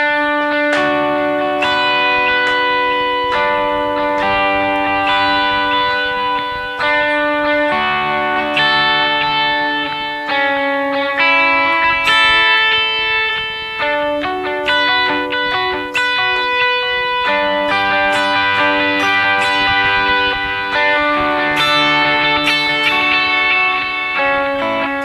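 An electric guitar plays with a dotted-eighth delay and lush reverb, its notes repeating in rhythmic echoes over a continuous wash of ambience. The part is steady and loud for the whole stretch, with no talking.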